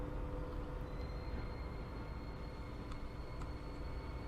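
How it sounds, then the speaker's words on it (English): A Chinese train cruises along track toward a junction in the railway game Transport Fever, a steady, even rumble of wheels and engine held at moderate distance with no talk over it. "Our Chinese train is there, it's heading to the junction."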